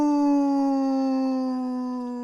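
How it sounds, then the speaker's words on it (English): A long, sustained jackal howl holding one clear, strong pitch that slowly sinks and fades toward the end, loud and alone. "The banished pack of jackals howled together loudly."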